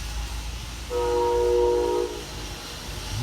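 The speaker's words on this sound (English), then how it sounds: "Sounds like there's a train nearby." A train horn sounds from nearby for about a second, a steady multi-tone blast over constant outdoor rumble, with no talking.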